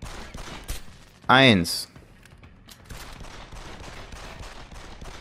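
Gunfire in the video game Deus Ex: Human Revolution, a single loud burst that rings briefly, with someone speaking before it and steady game ambience after.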